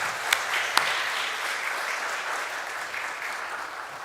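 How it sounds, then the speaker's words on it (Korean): A church congregation at Sunday worship applauds to welcome visiting members, a steady wash of clapping at moderate distance with a couple of sharper claps standing out early on. "박수로 환영합니다."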